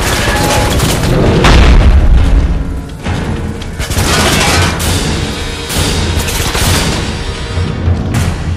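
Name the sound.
explosion in Harry Potter and the Deathly Hallows Part 2 video game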